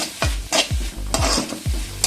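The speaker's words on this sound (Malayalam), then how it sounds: "വേപ്പിലയും കൂടി ഇടാൻ പോവുകയാണ്" Fresh curry leaves go into a hot pan for a Kerala-style mushroom dish, with about four rhythmic, loud spatula strokes scraping and knocking over a steady sizzle.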